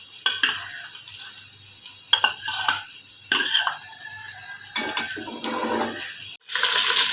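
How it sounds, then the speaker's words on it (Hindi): Onions frying in hot ghee for a dhaba-style chicken and spinach dish, with bursts of sizzling and stirring broken by brief pauses and a few utensil clinks against the pan. "घी गरम हो जाएगा, फिर हम इसमें प्याज डालेंगे।"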